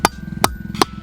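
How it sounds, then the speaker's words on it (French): Three sharp, evenly spaced thuds from a sledgehammer striking the ground to mark a spot in a garden, each impact close and distinct against a quiet background. "je tape avec mon marteau"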